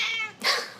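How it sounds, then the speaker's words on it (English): A kitten gives a single close, clear meow, rising after a brief breathy lead-in, with no talking. "The noise that you hear when you hear a kitten noise is Smudge."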